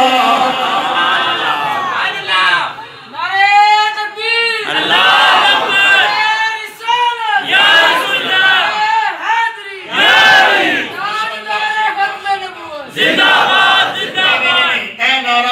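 A large crowd at a religious gathering chants a slogan in loud, rhythmic waves of voices, each burst of unison shouting followed by a brief pause, close and filling the space.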